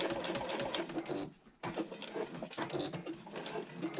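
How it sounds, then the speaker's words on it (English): A sewing machine stitches across a handbag handle connector in fast, even bursts. A short pause partway through marks the pivot, and the stitching then resumes close and clear. "I'm going to pivot and sew across the handle connector"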